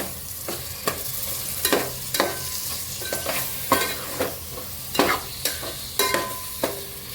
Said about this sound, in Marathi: यामध्ये आता कोळंबी घालून घ्यायचे मीठ आणि हळद लावून ठेवलेले एक तासभरासाठी छान आता परतून घेऊ यावर